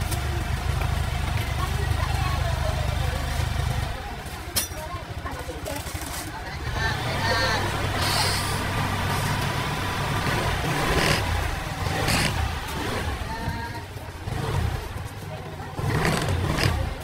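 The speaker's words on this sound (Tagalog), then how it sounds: "Painitin ko lang ng konti itong motor." A motorcycle engine idles steadily as it warms up, a low continuous rumble running throughout, with some faint background sounds layered over it.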